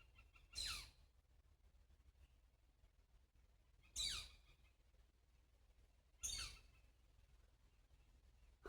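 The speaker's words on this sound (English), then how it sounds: "I don't know that bird call, but if anybody does" An unidentified bird in the woods at Arcola Bluffs, Stillwater, Minnesota, gives three sharp, harsh squawking calls spaced about three seconds apart, moderately distant over a quiet forest background.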